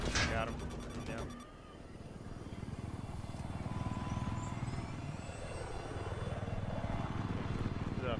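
Rotor and engine drone of a helicopter in the video game Attack Chopper, a steady loud whir running throughout under game voice callouts.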